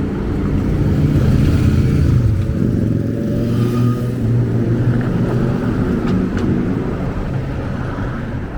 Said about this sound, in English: we got a couple of bikes coming